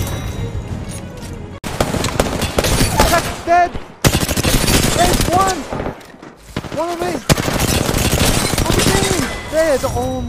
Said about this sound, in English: They're both shooting at me here.